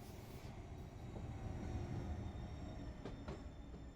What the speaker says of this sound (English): Train's just cruising in here.